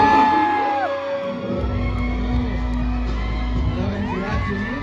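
Audience at a Hyundai Motor Philippines event whooping, yelling and cheering for a brand ambassador taking the stage, a loud crowd roar that swells and holds steady, with music tones playing underneath.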